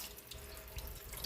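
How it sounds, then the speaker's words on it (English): A kitchen tap running lightly over fresh fish fillets to rinse out blood, a soft, steady hiss of low-pressure water with faint splashing, quiet and unbroken with no talk. "you're just going to turn the water on lightly"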